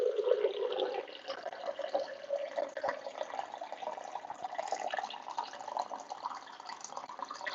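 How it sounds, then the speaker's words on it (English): Water pours steadily into a large container for aquarium plant tissue culture, a continuous close splashing and gurgling stream that stays fairly even throughout. "I'm going to add a whole bunch of water to the bottom of it"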